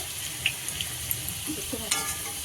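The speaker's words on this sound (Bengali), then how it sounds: "আলুগুলো লাল লাল করে ভাজা হয়ে গেছে" Potatoes fry in a pan for a rohu fish curry, giving a continuous soft sizzle with a few sharp clinks and scrapes of a utensil against the pan.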